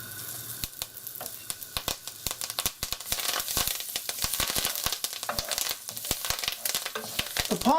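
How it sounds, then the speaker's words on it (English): Thyme crackling and sizzling in hot butter and olive oil, a dense run of sharp pops and spits over a steady frying hiss, close and fairly loud, with no speech. "as soon as the oil is hot enough, we're going to infuse it with the thyme"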